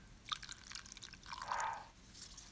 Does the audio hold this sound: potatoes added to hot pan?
no